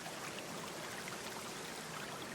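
Water flows steadily from a fountain in a video game, a soft continuous trickling stream at low level with no voices or other sounds.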